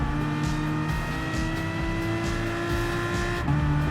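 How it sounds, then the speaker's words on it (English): A Citroen race car roars around a Gran Turismo 5 track, its engine droning loud and steady with a sustained high pitch and a brief gear shift near the end, heard alone. "Trying to catch that GT5 Citroen race car."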